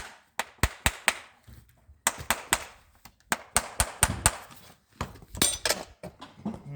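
Sharp metallic hammer taps in quick bursts of three to five strikes, separated by short pauses, close by: horseshoe nails being hammered into a horse's hoof wall.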